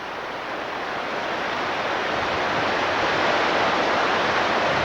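Flood water rushes near a bridge in Fayetteville, Tennessee, a loud, constant broadband roar that builds slightly and carries on without a break, with no talk.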